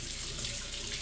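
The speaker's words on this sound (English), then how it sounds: "Oh, the sink? Is this really loud?" Water running steadily from a kitchen sink tap, a brief continuous splashing hiss heard close and fairly loud, with no talking over it.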